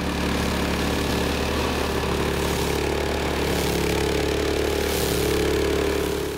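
A brush cutter's 15-horsepower Loncin petrol engine runs steadily at a constant speed, a loud, even drone with no change in pitch throughout.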